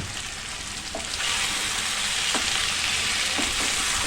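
Masala potato curry sizzles and simmers in a pan, a continuous close frying hiss that grows louder after the first second, with a few soft stirring clicks.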